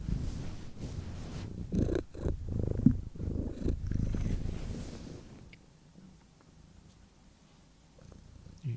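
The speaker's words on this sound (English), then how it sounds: "my cat's here." A domestic cat purrs close by with a low, rumbling vibrato, loud at first and then fading to a quieter, softer purr in the second half, with no talking over it.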